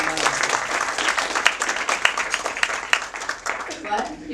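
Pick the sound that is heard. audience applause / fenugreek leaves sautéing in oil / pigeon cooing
audience applause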